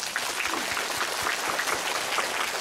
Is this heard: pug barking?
no